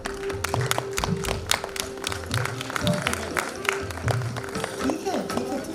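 An audience applauds at a book launch in a hall, scattered claps sounding over a busy crowd with talking and movement throughout.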